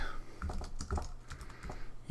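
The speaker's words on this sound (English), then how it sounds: "start typing in the text box." Soft, rapid clicks of typing on a computer keyboard while building a small business site in WordPress, a steady patter of light keystrokes at moderate distance.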